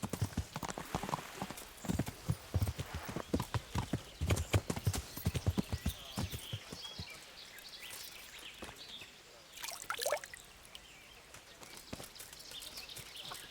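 Horse hooves in the video game Kingdom Come: Deliverance clip-clop in a brisk, steady rhythm close by, then slow and fade into quieter ambience with a faint whinny-like call.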